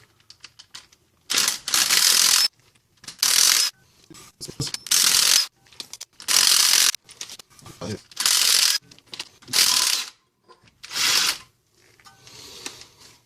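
Ratchet wrench removing 12mm axle bolts on a 1996-2004 Nissan Pathfinder front axle: about eight loud bursts of rapid clicking ratcheting, separated by short pauses.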